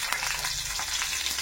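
Eggplant slices fry in hot oil with a dense, close sizzle and scattered crackles, steady and fairly loud for the whole moment, with no one speaking.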